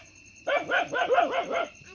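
A dog in a village barks five or six times in a quick, close burst over a quiet background.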